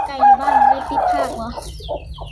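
A single young chicken clucks a few times close by, with short calls trailing off toward the end, in a quiet rural setting with no talk.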